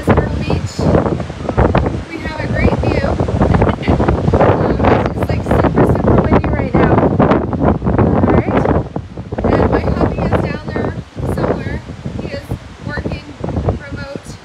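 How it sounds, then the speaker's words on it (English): Strong gusting wind buffets the microphone in loud, rough bursts, nearly continuous, on a high-rise balcony by the beach at Myrtle Beach, with a voice talking underneath. "I know it's gonna get a little bit loud. It's, like I said, it's windy out there."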